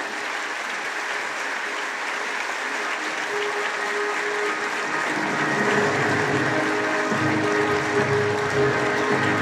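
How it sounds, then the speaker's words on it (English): Sustained applause from a large crowd at a senior high school commencement ceremony fills the space, a dense, even clatter of clapping that swells slightly toward the end. "a big round of applause for our executive officers"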